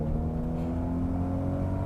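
Toyota Supra mk4 biturbo engine pulling under acceleration, heard from inside the car as a steady low drone with a faint turbo whir, close and continuous with no talk.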